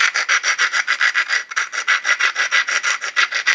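A flintknapped stone knife has its bottom ground against an abrasive stone in steady, rhythmic rasping strokes, loud and close, with no talking.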